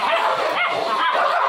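A blind dog barks and yips in continuous, excited bursts close by. The barking is mixed with people talking.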